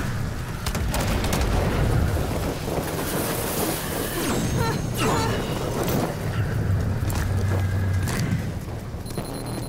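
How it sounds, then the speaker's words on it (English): Rage 2 laser weapon firing in a desert battle: a loud, dense, roaring blast that runs steadily through the whole stretch, with rumbling bursts layered on top. "I'm gonna fire my laser!"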